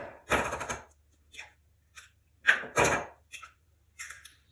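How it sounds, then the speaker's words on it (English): Eggs cracked on a hard surface and dropped into a well of flour for fresh pasta dough, making a few sharp, separate taps and cracks close by with quiet pauses between them. "we've got our eggs that we're going to crack"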